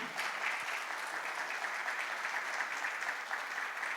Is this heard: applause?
yes